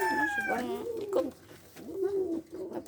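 A pigeon coos in low, rolling, throaty phrases, close and fairly loud, with a brief high whistle-like tone at the start.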